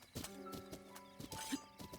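A horse gallops up in Breath of the Wild, its hooves clip-clopping in a quick, uneven rhythm close by, with a whinny mixed in among the hoofbeats.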